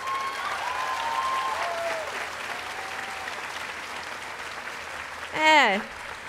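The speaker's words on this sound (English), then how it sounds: "those cheers and some of that chatter that you hear out there" At a community college commencement, a crowd applauds steadily with family members cheering and chattering in the audience, a sustained wash of clapping under distant voices, with a sharp whistle near the end.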